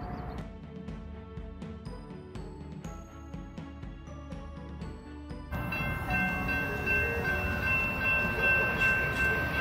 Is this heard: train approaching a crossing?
yes